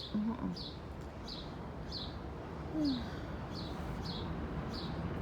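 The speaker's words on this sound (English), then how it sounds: "These birds are very active." Birds, including a mockingbird, chirp outdoors in regular short high notes repeating about twice a second, faint and distant over a steady background hiss, with a lower coo-like call partway through.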